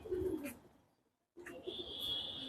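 Pigeons coo in soft, low murmurs close by, with a short quiet gap midway and a steady high-pitched tone in the background afterward.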